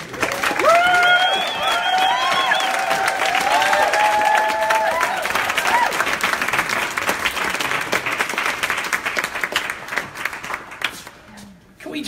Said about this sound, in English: Can we just hear another round of applause for Ian Somerhalder?